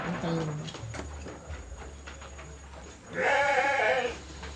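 Goats on a farm bleat, one loud nearby bleat near the end after fainter calls, while people talk throughout in Indonesian.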